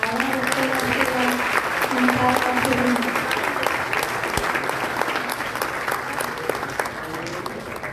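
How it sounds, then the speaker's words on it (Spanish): An audience at an international academic meeting applauds a woman doctor, with continuous, dense clapping for about eight seconds and a voice briefly audible underneath at the start. "le damos un aplauso a la doctora"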